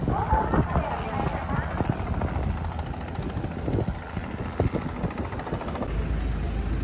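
A helicopter flies near Aburatsu Port in Nichinan, its rotor thudding in a steady pulse under wind noise and light background activity, staying moderately loud throughout.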